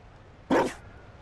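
A dog in Dragon Age: Inquisition gives one short, sharp bark, close and fairly loud, standing alone against a quiet background.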